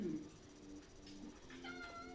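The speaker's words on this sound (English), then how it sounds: "the cat is going crazy over here" A house cat meows repeatedly and agitatedly, faint under steady background noise, with a few drawn-out calls near the end.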